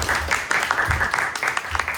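Brief burst of audience applause welcoming a senator on a panel, moderately loud uneven clapping with a few sharper claps standing out.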